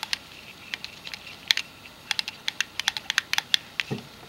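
Magnification changer of a refurbished Haag Streit 900 BQ slit lamp being turned, a quick irregular series of small sharp clicks, close and dry, with no voices.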